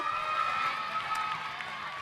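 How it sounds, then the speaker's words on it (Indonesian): A studio audience on a television variety show claps and cheers for a performer named Didi after a drum act, a brief, lively burst of crowd noise that stays fairly close and loud throughout. "Mana coba tepuk tangannya untuk Didi mana?"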